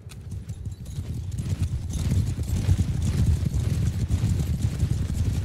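Mounted archers' horses galloping in the Bannerlord video game during a battle, a fast thick clatter of many hooves that builds into a steady rumbling drumming with no voices.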